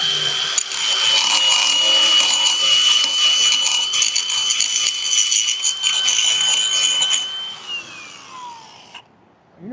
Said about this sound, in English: We're doing some grinding.